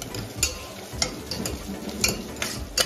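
Ginger garlic paste fries in a pan while a spoon stirs it, with a soft steady sizzle and repeated light metallic scrapes and taps against the pan, close and fairly quiet.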